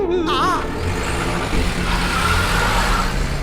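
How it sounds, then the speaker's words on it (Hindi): A car engine in a Kaashmora movie scene starts up and keeps running as the car drives off, a loud, steady rumble filling the whole stretch, with a brief voice near the start. "साहब, गाड़ी सेल्फ स्टार्ट हो गई।"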